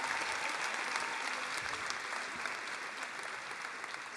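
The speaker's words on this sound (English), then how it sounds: "So give Gabby a round of applause as well." An audience at a leadership badge presentation ceremony claps steadily, a sustained round of applause that fades slightly toward the end, with no voices over it.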